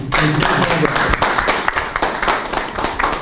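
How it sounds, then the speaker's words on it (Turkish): An audience at a cultural association event applauds with dense, steady clapping that continues throughout, loud and close. "kendisine de tekrar özel bir alkış"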